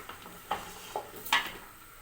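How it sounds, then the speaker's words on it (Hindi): Paya (trotters) browning with yogurt in a pot on low heat while being stirred: a few quiet spoon scrapes and light clinks against the pot over a faint, steady background. "अब मैं इसमें आधा कप ये दही का डालती हूँ और इसको आंच स्लो करके 2 मिनट के लिए और भूनती हूँ"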